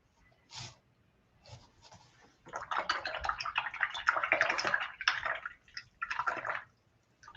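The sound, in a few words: rinsing a paintbrush in water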